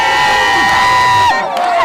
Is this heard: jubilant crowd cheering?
yes